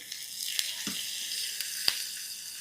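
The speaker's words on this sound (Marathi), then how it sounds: "थोडंसं हिंग टाकतोय, हिरवी मिरची, 1 हिरवी मिरची एकदम बारीक अशी चिरून घेतलेली." Asafoetida and finely chopped green chili fry in hot oil, giving a steady close sizzle with a few sharp crackles and pops.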